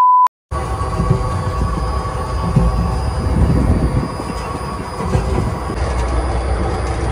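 A train pulls into a station with a loud, steady rumble of wheels and carriages close by, a continuous roar with no voices.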